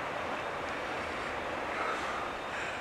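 A Jet2 Boeing 737-8 airliner at Manchester Airport gives a steady, broad engine roar, moderately loud and constant from start to finish, with no voices present.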